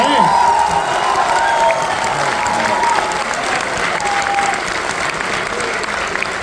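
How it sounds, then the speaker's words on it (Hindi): Audience at a literary festival poetry session breaking into loud applause with some cheering and crowd noise, a strong sustained burst that stays full throughout and eases slightly near the end. "एक बार जोरदार तालियां बजा के बताएं।"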